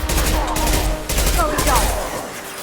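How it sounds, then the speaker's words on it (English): Rapid gunfire in the video game Mass Effect 2, loud bursts of repeated shots and impacts crowding together, with a voice speaking over the barrage. "Taking heavy fire!"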